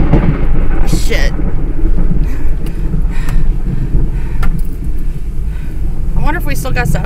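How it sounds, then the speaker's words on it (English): A lightning storm brings loud, continuous rumbling thunder and heavy rain close by, a constant dense roar with occasional sharp cracks, while people talk over it. "It's only a lightning storm, pretty much."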